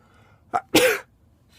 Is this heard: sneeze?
yes